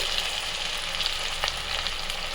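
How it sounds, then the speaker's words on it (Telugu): Fish pieces sizzle steadily in hot oil in a deep pan for Andhra-style fish fry, a dense, even crackle with a few sharper pops and no talking. "ముందుగా స్టవ్ ఆన్ చేసి బాండి పెట్టి దాంట్లో ఆయిల్ వేసి అది మరిగిన తర్వాత ఇలా చేప ముక్కలు వేయాలి."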